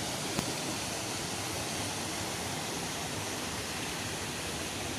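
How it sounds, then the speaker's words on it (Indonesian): Small waterfall in Puraseda, Bogor, pouring over rocks, a steady broadband rush of water that stays even and close throughout, with no voices. "Ini dia teman-teman curug kecilnya"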